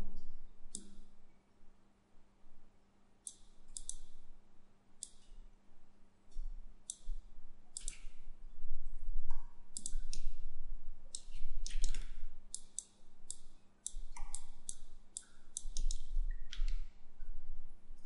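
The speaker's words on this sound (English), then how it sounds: "so I'm just gonna click grow" Computer mouse clicks while working in 3ds Max, sharp and close, come singly and in quick clusters with short gaps, over a faint steady hum and soft low thumps of handling.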